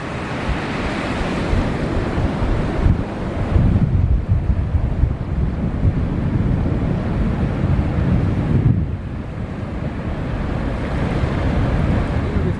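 Surf rolls over the sandbank at the St Lucia Estuary mouth, a continuous loud roar of breaking waves mixed with heavy wind buffeting the microphone, swelling and easing in broad surges.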